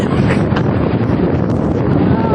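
Strong wind buffets the microphone at Bagasbas beach, a loud, continuous low roar with gusty rumbling throughout and possible faint surf underneath.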